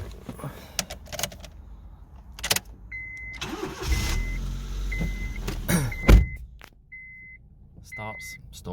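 A Vauxhall Corsa D engine cranks and starts after a few clicks and beeps, settling into a low idle up close, with brief speech in the background.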